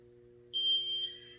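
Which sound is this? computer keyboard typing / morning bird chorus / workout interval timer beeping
workout interval timer beeping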